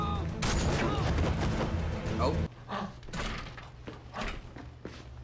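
Rapid, dense gunfire crackles loudly inside a building for a couple of seconds, then continues in scattered bursts, with a brief exclamation from a voice.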